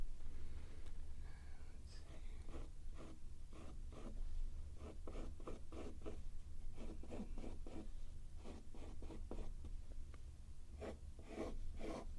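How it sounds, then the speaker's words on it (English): A pencil sketching on paper ahead of inking with a Sharpie, close scratchy strokes in quick repeated bursts with short pauses between them, quiet room hum underneath and no talking. "I'm going to sketch it first and then show it up in Sharpie"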